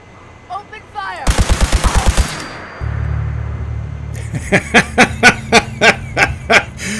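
Gunfire in Fallout 4 on a quiet night: a rapid string of about eight loud, close automatic shots, then a rumble, then another evenly spaced burst of sharp, bright reports.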